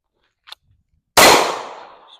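A single sharp Glock pistol shot at a shooting range, loud and close with a ringing decay, preceded by a faint click.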